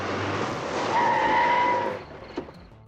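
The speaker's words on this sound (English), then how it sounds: "how do the tires screech when he's on grass?" Car tires screech loudly in a werewolf horror film scene, a sustained squeal lasting about two seconds before cutting off, followed by a brief thud.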